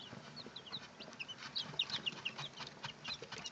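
Baby chicks cheep repeatedly while being fed, their high, close peeps overlapping in a busy, irregular chorus over low background rustling.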